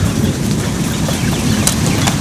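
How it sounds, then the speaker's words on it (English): Steady, loud rain hisses close by while low thunder rumbles underneath, forming a continuous dense wash with no voices. "the rain's starting to pick up"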